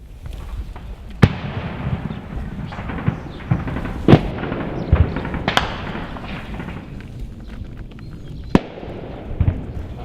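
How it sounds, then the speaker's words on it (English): Heavy gunfire and explosions from the battle for Donetsk International Airport crack and boom over a constant low rumble, with several loud, sharp blasts standing out at irregular intervals. "Yeah, some pretty heavy fire now."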